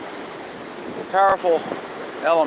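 Ocean surf rolls in steadily at a beach at night, a continuous wash of breaking waves in the background while a voice talks over it intermittently.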